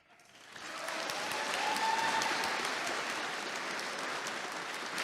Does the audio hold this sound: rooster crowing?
no